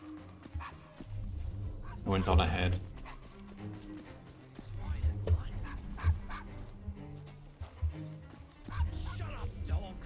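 A dog in the Assassin's Creed Syndicate video game barks and yips in short bursts, moderately loud, mixed with game ambience and someone talking over it.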